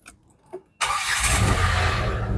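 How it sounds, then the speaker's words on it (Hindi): A Renault Triber seven-seater's engine cranks and catches after a couple of soft clicks, then settles into a steady, close running hum. "मैं स्टार्ट कर लेता हूँ गाड़ी"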